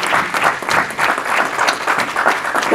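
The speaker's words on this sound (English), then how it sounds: "Please, let's keep clapping." Audience at a church birthday celebration for a pastor claps continuously as a guest pastor comes forward, a loud, lively crowd applause with slightly pulsing intensity throughout.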